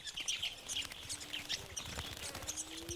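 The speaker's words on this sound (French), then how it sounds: "Ces inséparables à tête grise affluent vers l'eau." Grey-headed lovebirds chatter in a busy flock flocking to water in Madagascar, a constant stream of high, shrill chirps and squeaks, moderately close with soft background noise.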